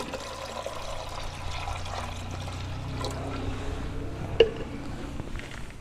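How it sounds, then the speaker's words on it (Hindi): Cow urine poured into warm water holding soaking wheat, a soft steady trickle and slosh of liquid, faint and close, running throughout with one brief splash near the end. "ये गोमूत्र हम इसमें डालने जा रहे हैं।"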